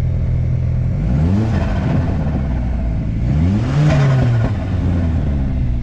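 A 1.8 turbo car engine revs up twice with rising whine and falls back, heard at moderate distance without talk, though any dump valve release is not clearly distinct.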